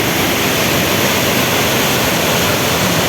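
Steady, loud roar of Mae Klang waterfall at Doi Inthanon, Thailand, a dense broadband wash of falling water filling the whole stretch without a break, no voices.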